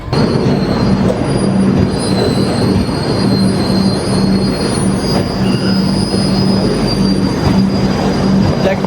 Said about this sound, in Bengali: ট্রেনটা এখানে দাঁড়াচ্ছে না, হালকা স্পিডে বেরিয়ে যাচ্ছে